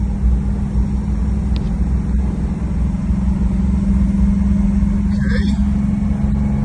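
A 1983 Toyota Land Cruiser cruising on a highway in third gear, its engine droning steadily with a low hum under road noise, and a brief spoken word near the end.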